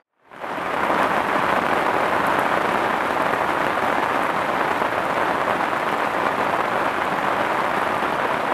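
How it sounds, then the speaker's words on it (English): Heavy rain pours steadily onto water at a fen fishing lake, a dense, loud, unbroken hiss that starts abruptly and holds at full strength throughout, with no voices. "getting absolutely battered by this rain"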